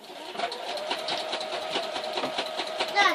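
A sewing machine runs steadily through free motion quilting on a newspaper-backed quilt sandwich, its needle stitching in a close, continuous whir at even speed with no talk over it.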